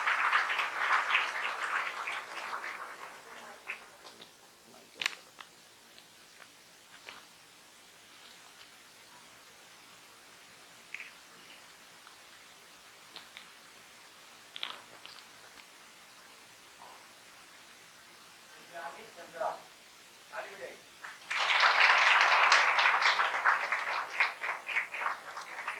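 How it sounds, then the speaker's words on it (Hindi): An indoor audience at a student topper's talk erupts into a dense, loud wave of clapping that lasts several seconds, following a long stretch of faint scattered claps and quiet room noise. "दिव्यानी के लिए एक बार जोरदार तालियां सभी लोग बजाएंगे।"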